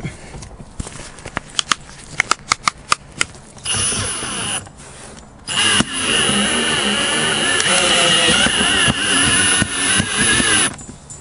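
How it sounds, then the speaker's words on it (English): A few sharp knocks and taps, then a power drill in low gear whirs steadily at high pitch, cutting out a 2013 Volkswagen Jetta windshield, pausing once before running loud and continuous. "You want to make sure that you have the low gear on your drill."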